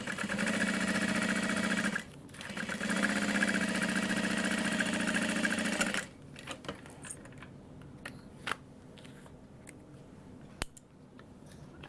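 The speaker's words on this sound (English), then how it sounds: "I'm gonna sew this together at a 3/8 inch seam allowance" Sewing machine stitching tote bag fabric at a 3/8 inch seam, a close, loud steady whirring run with a brief pause, then stopping, followed by quieter handling clicks and fabric rustles.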